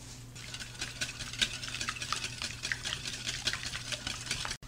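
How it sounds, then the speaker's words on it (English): Whisk beating eggs with heavy whipping cream in a bowl for sausage and egg muffin cups, a fast steady rattling scrape that runs continuously and close at moderate level over a low background hum. "And then, Joseph, you're going to beat the heck out of it. We have our whisk here"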